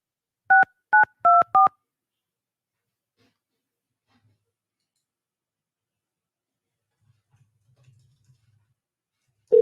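Four short telephone keypad tones from an automated phone menu, sounded in quick succession near the start, followed by long silence with faint low rustles and a brief tone at the very end.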